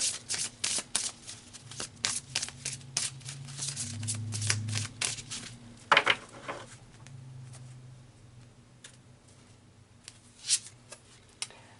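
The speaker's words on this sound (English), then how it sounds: "so let's pull another card" Tarot cards being shuffled by hand before a card is pulled, a close run of quick riffling flutters and soft slaps with a faint low hum underneath.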